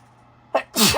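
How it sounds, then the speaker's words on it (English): A short sharp inhale followed by one loud, close sneeze. "I did not mean to sneeze on you guys."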